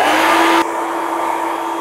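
A hair dryer blasting at long red hair during a haircut: a loud, steady close-up whoosh with a tonal whine that drops slightly in pitch and level after a moment.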